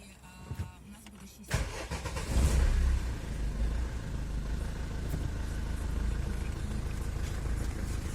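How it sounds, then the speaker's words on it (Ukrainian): A car's 1.9 dCi diesel engine, which has an idle-speed fault, cranks and fires up, then settles into a steady, close-up idle with a rough, rumbling tone. "йду, пробую запускати автомобіль"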